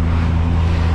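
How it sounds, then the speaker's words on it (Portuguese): A heavy truck rumbles past nearby on a street in Florianópolis, a loud, steady low engine drone with a strong droning hum that holds through the whole moment, no voices over it. "caminhão alto."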